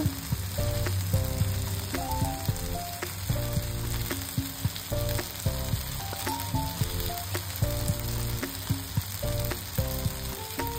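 Cumin seeds fry in hot oil in a pan, giving a steady close sizzle with bursts of crackling and occasional stirring clinks throughout.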